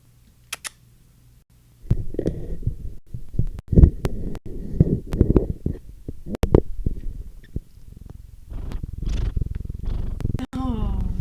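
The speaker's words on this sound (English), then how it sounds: "Listen to that purr." A cat purrs right up against the microphone, a low continuous rumbling with soft thumps and handling noise, in a home setting.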